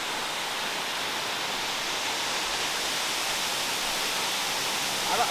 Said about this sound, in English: welcome on here to Grey Mare's waterfall